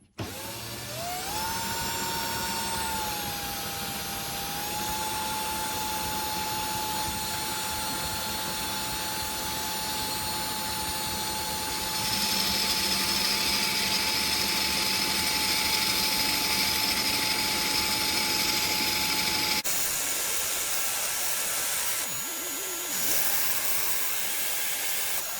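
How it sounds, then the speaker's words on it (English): Hand drill spins a roller bearing from a Toyota Sienna sliding door upper roller, clamped and sanded with 120-grit paper: a steady, close whirring drone with hiss that grows slightly rougher midway, then cuts off near the end. "just using a hand drill with a clamp to rotate it and"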